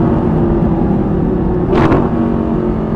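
Audi R8 LMX engine accelerating, a steady loud droning roar heard from inside the car, with a brief sharper rising burst near the end.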